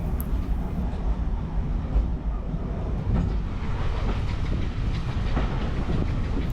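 A heritage steam train runs on the Middleton Railway, a continuous rumbling roll of carriages with faint clickety-clack over the rails, heard steadily from on board with no talk.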